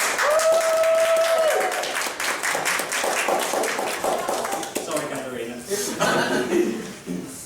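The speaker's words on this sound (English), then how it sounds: "Everyone give them a round of applause to take them out." Audience applause at a student show, a scattered clatter of clapping that rises and falls under chuckles, a cough and people talking nearby.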